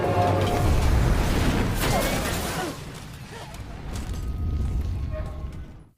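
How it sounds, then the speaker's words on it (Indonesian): A loud explosion from a film scene blasts at the start with dense low rumble and crashing debris, then decays into a long, churning roar and scattered rattling over several seconds. "Akibat dari ledakan itu, Anders pun mati seketika"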